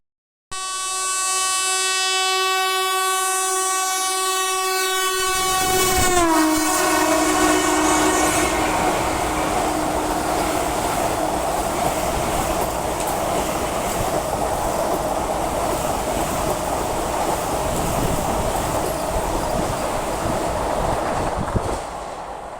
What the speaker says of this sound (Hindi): अभी ठीक बनारस वंदे भारत हमें यहाँ से जाते हुए दिखी है।